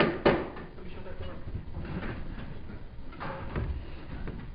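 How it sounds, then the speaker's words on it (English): A door pulled shut in a township meeting room, giving one dull thud near the start over steady room noise and murmuring, with a fainter knock later. "Somebody shut that door."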